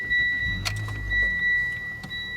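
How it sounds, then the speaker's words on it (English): A Mitsubishi's ignition switches on in a quiet car with a steady high electronic chime, a brief click, a short low hum, then a second click. "if you turn on the ignition, you'll see the airbag light."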